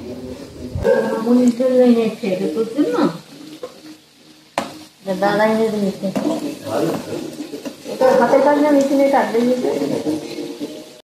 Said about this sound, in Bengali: আস্তে আস্তে করে কিন্তু আমি ভেজে নিচ্ছি, লাল লাল করে ভেজে নেব